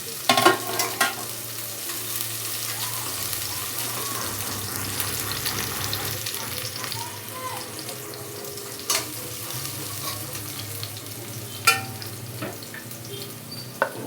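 Garlic frying in a pan alongside green chillies and ginger for a spinach and yellow pumpkin masala, a loud, steady close sizzle punctuated by occasional sharp spatula clinks and stirring scrapes.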